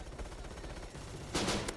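An AK47 fires short tapped bursts in the mobile shooter Bullet Force, quick repeated shots rattling close, with a sharper louder crack near the end.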